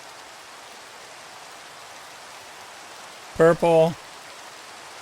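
Steady, even hiss of rain falling in Minecraft with the Botania mod, continuous and fairly soft throughout, with a brief spoken word near the end.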